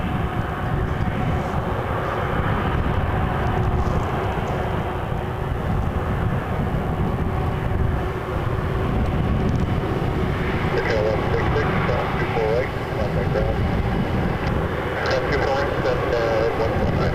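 An Air Canada Airbus A330-300 in Star Alliance livery approaches Toronto Pearson, a steady, loud low jet-engine roar filling the whole stretch, with talk over it throughout.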